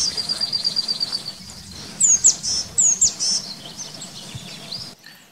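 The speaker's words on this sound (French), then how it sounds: "La mésange." A tit sings outdoors, repeating bright, high chirping phrases in short bursts, near and clear over a soft background hum.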